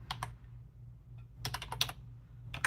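Nearby computer keyboard typing comes in short clustered bursts of crisp key clicks separated by pauses, over a low steady hum.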